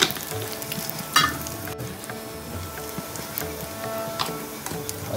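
A small spoonful of turmeric sizzles in a hot pan while preparing an alu (taro leaf) fathfatha curry, a steady close frying hiss with light stirring clinks throughout.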